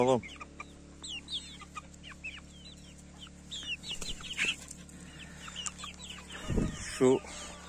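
Chickens cluck and chirp steadily in short bursts, fairly close, with a steady low hum behind them and a louder squawk near the end.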